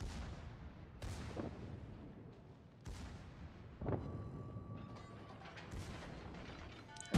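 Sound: battleship secondary guns firing, from a naval video game

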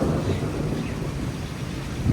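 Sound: rain falling with thunder

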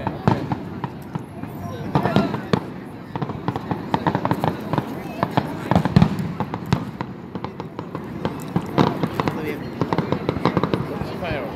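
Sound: fireworks exploding

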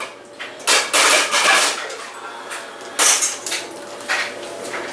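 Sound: non-stick pan being handled

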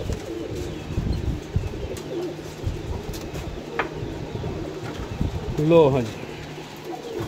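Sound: pigeons cooing

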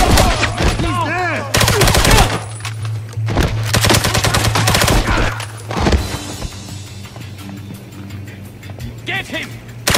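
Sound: gunfire in the video game James Bond 007: Blood Stone

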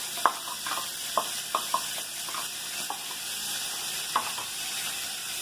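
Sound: onion and garlic frying in butter

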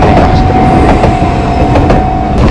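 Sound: Enoden train passing Kamakura-Kokomae station

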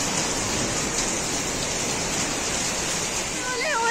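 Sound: heavy rain in Dehradun

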